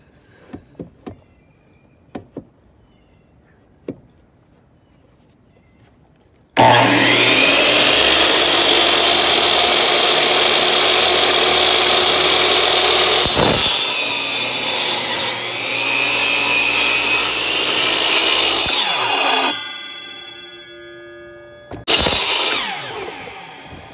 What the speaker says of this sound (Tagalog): Mag-cut na using my meter saw.